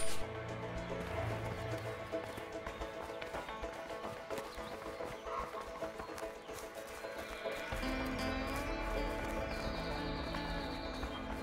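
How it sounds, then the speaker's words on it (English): Horses galloping in the video game A Way Out, with rapid rhythmic hoofbeats over game music and a whinny, continuing steadily throughout. "Let's just hope these horses keep running."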